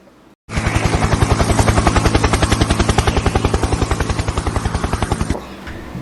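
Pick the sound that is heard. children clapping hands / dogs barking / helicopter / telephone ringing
helicopter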